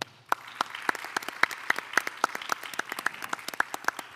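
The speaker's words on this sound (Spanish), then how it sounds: "para quienes les pido un aplauso" A modest audience at a talk on investigating animal abuse in Michoacán claps for sign language interpreters: fairly sparse, distinct hand claps in a quick irregular patter, soft and somewhat distant, continuing steadily.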